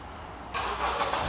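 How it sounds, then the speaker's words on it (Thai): A 2016 Honda Accord 2.4 EL started by push button: quiet background, then the engine abruptly catches and settles into a loud, steady idle, close by, with no talking. "ฟังเสียงนะครับตอนนี้เครื่องยนต์นะครับสตาร์ทติดแล้วนะครับ"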